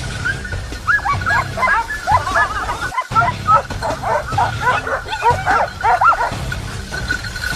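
Several hunting dogs bark and yip excitedly in rapid, overlapping bursts while chasing wild boar, fairly close, with steady outdoor noise beneath and a brief dropout midway.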